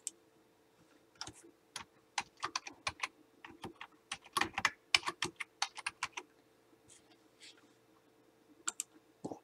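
Rapid, irregular keystrokes on a computer keyboard during a demo of Vectric Cut2D Pro design software, bursts of crisp clicks with brief pauses, fairly quiet and close, no talking.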